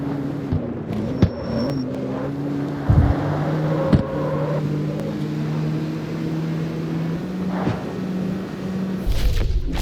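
Honda Civic engine in a street racing video game, a sustained engine drone with gear shifts and revving changes across the race, steady and fairly loud, with a few thumps and no talking.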